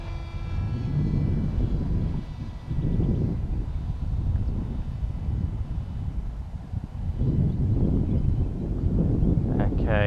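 A radio-controlled Carbon Z Scimitar model airplane's engine drones steadily in flight with wind buffeting the microphone, while a person talks over it.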